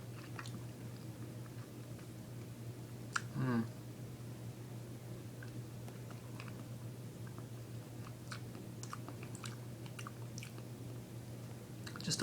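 Lime-flavored Trolli Evil Twins gummy candy is chewed softly and wetly up close, with a brief squishy bite early on, then quiet mastication at low volume.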